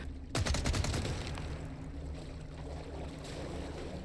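A rapid burst of gunfire in Resident Evil 4 Remake, a quick string of sharp shots opening the moment, then a steady rushing ambient wash with no voices.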